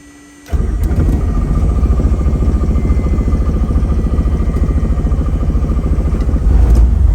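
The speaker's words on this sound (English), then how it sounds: "motor the engine until it hits, then bring in the mixture" The piston engine of a Robinson R44 II helicopter, flooded, cranks and catches, then runs steadily with a rapid, loud mechanical chug and clatter that continues to the end.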